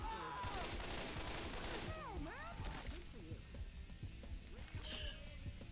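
Gunfire in the video game Left 4 Dead 2: dense, rapid shots mixed with chaotic game effects and swooping tones, fairly quiet overall, with voices talking now and then.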